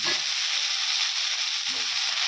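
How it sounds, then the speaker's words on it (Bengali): Cauliflower florets and long-cut potato sticks fry in oil in a pan, giving a loud, steady sizzle with faint low stirring knocks at the start and near the end. "কপিগুলো হালকা ভাজা হয়ে গেছে, এবার লম্বা লম্বা করে আলু কেটে নিয়েছি, আলুগুলোও সঙ্গে ভেজে নেব।"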